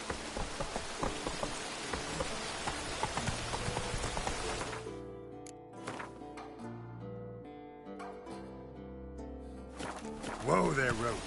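Roach, the horse in Witcher 3, clops along with hooves in falling rain. The steady patter and hoofbeats are joined by voices, and the busy rain noise gives way to sparser, quieter sounds partway through.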